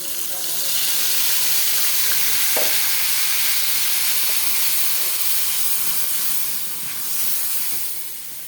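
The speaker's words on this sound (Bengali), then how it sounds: "এই মশলাগুলো দিয়ে এখন সুন্দর করে কষিয়ে নেব।" Mixed spices sizzle and hiss steadily in a hot pan for a roast dish, a close, continuous frying noise with faint stirring scrapes that eases slightly near the end.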